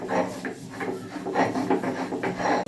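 Mint and coriander leaves ground into a paste on a grinding stone, a series of rough rubbing strokes in an uneven rhythm, close and fairly loud, with no talk.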